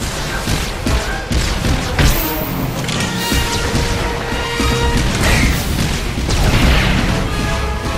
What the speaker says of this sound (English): The Mercenary fires off a few Heatseeker missiles